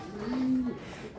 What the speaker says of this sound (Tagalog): ito yung mga ibon mo yan